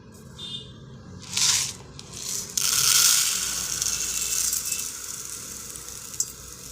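Dry moong dal and millet grains pour into a cup in rattling, hissing bursts with a brief pause, then settle into a steady, granular patter that fades at the end.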